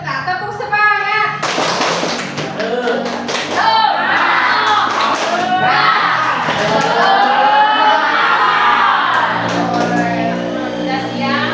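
A class of junior high school children at an Islamic school does a rhythmic clapping chant, their voices loud and close, with a quick pattern of claps under the sing-song chanting throughout.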